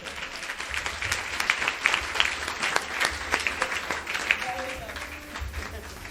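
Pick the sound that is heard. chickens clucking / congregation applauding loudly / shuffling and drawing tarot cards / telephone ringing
congregation applauding loudly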